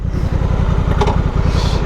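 A Honda NT 1100 motorcycle engine running loud and close in a steady, rapid low throb, the idle rhythm even throughout with no other sounds.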